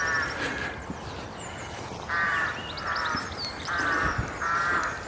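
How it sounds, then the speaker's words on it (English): Crows caw in repeated harsh bursts in St Oswald's Church graveyard, Brereton, several calls spaced across the moment, set against a steady outdoor background hiss. "you can hear them crows."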